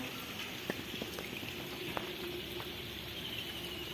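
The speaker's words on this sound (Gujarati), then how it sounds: "અને વરસાદ કેવો, વીજળીના કડાકા ભડાકા" Heavy monsoon rain pours over a flooded cotton field in Gujarat, a steady close hiss dotted with scattered sharp drop ticks, with no talking.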